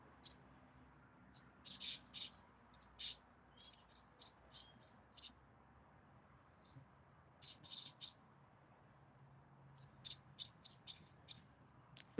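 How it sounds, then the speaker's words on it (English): A bird in a tree gives short, high chirps in scattered clusters, moderately distant over a quiet background hum. "The bird in the tree, guys."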